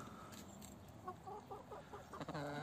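Several hens clucking close by in short, soft repeated calls, growing busier toward the end, over a low background murmur.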